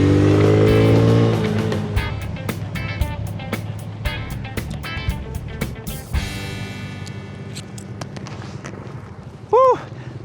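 A Suzuki Smash 115 underbone motorcycle ridden on the road, its small engine revving and then easing off with a steady hum under wind noise, close and fairly loud, with a brief louder burst near the end.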